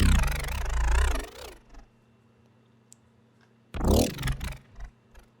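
An initial Citrus synth patch for a growl plays two bursts of wobbling, buzzy tone, one long opening phrase and a shorter one near the end, separated by near silence with a faint background hum.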